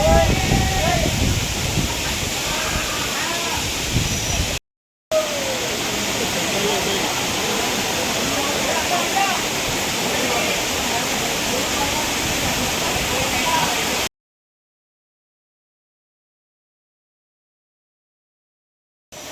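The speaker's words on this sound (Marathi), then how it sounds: "पुढे धबधबा आहे मित्रांनो" A waterfall inside a national park near Mumbai roars loud and steady close by, a continuous broadband rush with people talking over it, broken by a brief cut and ending in silence after about fourteen seconds.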